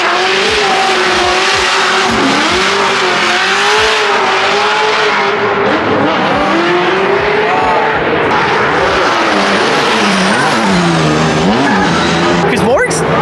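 Drift cars at Formula Drift Long Beach 2023, one of them a BMW E46, roaring engines and long screeching tire squeal sweeping up and down, loud and close, with crowd voices and talk underneath.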